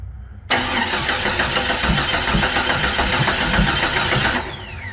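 A 1996 Jeep Cherokee engine, just back together after a timing chain repair, cranks with a loud, steady starter whir and rhythmic churning that continues for about four seconds and then cuts off without catching.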